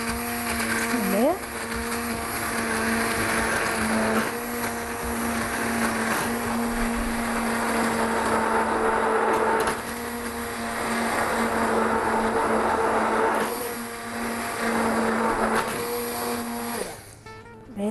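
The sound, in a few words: hand blender blending coconut milk mixture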